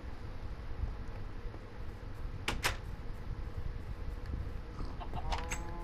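A chicken in the Minecraft video game gives a couple of short, sharp clucks over a low background of game ambience.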